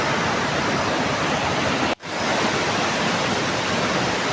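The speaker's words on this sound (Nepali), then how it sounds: "पानीको आवाज मलाई चाहिँ असाध्यै मनपर्छ पानीको आवाज चाहिँ।" A river rushes in a steady, loud roar near Mugu village in remote Nepal, constant and broadband, with one brief dropout midway.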